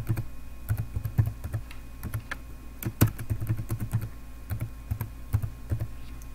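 Keys clatter on a computer keyboard as a password is entered during Windows 7 FTP server setup, a steady run of close, crisp keystrokes with short pauses and a faint background hum.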